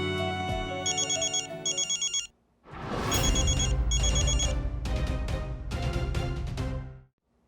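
A telephone ringtone plays late at night: a bright, repeating electronic melody in two loud bursts split by a short gap, with no voices.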